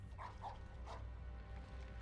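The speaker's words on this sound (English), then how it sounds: "That sounded like a dog." A dog barks in the Harry Potter and the Prisoner of Azkaban PC video game, two quick yips and then a third, faint and set back over a steady low game hum.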